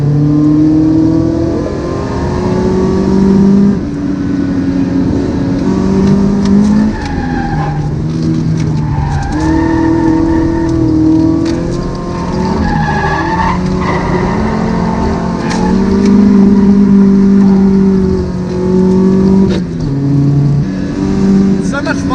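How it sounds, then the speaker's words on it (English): A Toyota AE86 Corolla with a 4.3 final drive revs hard during aggressive drifting, its engine rising and falling loudly alongside tire squeal, with talking over much of the run. "Driving a Corolla like this, because it's sort of like just racing, but you're skid racing."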